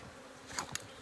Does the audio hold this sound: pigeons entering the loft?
no